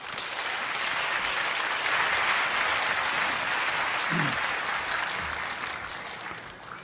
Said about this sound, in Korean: 귀한 강사 목사님 보내신 하나님께 감사의 박수 올려드리면서